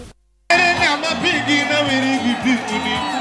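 After a brief silence, a mammoth crowd at an ODM rally in Kisumu for leader Raila Odinga breaks into loud, sustained cheering, with whoops, shouts and voices rising and falling together.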